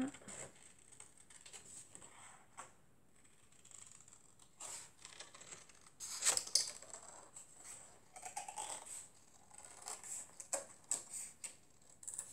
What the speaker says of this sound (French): Là, on va venir le découper aussi. Vous découpez votre cercle.